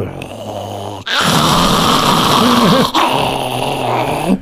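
A man imitates a dog's growl with his voice, a loud, sustained rough snarl running nearly four seconds alone, broken by brief pauses, with no other talk.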